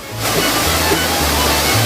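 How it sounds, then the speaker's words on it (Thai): Sathit waterfall in Kanchanaburi, a small waterfall, roars as a loud continuous rush of falling water heard close up, with a low steady hum underneath. "ตอนนี้นะครับเพื่อนๆเราก็มาถึงตัวน้ำตกสาธิตกันแล้วนะครับ"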